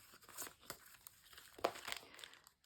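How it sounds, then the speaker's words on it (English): A glassine envelope being handled in an art journal, giving faint, close crinkling and rustling with a few sharper crackles. "Got a glassine envelope with a couple of journaling cards."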